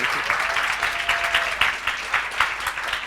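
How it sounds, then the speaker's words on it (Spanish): Sustained applause from a crowd, steady clapping throughout with a few brief voices mixed in. "muchas gracias, Mario, démosle un muchas aplauso"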